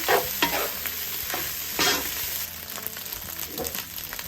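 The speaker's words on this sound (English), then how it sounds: "Stir fry that. Stir that in." Thai beef fried rice being stir-fried in a pan with oyster sauce, loud close sizzling broken by bursts of scraping and tossing strokes.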